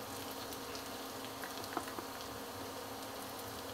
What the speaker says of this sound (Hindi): अब प्याज को हम भुनने देते हैं।